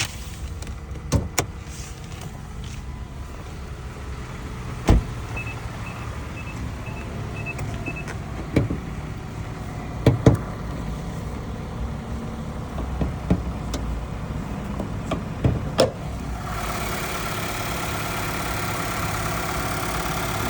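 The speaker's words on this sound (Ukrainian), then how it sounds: "Двигун працює чистенько, рівненько, нічого не пищить у нього" A Mazda CX-5 engine idles steadily with a low, even hum, broken by a few scattered clicks and knocks.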